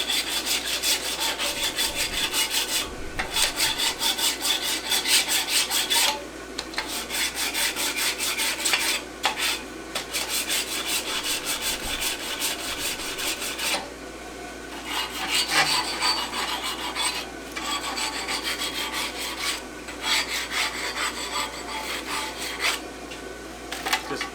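Steel French hind horseshoe with masselot clips, forged from 3/8 x 1 bar, rubbed and scraped in a sandbox to finish it after hot rasping, giving a steady gritty scraping with brief pauses, close and moderately loud with no talk.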